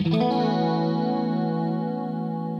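A sustained electric guitar chord through a Boss chorus pedal, shimmering with a warbling chorus effect, rich and steady, ringing out alone and slowly fading.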